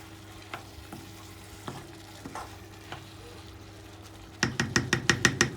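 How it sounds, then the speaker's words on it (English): Red wine bubbling in a pan to boil off the alcohol, with a utensil scraping caramelised bits from the bottom; steady simmer with a few scrapes, then a rapid run of louder scraping strokes near the end. "Let that have a bubble on its own first so we can just boil off the alcohol. Make sure we scrape the bottom"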